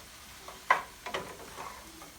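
Pork and onion sautéing together in a pan for apple stuffed pork chops, a soft hiss with a few brief stirring scrapes and bumps, close but quiet and short, no talking.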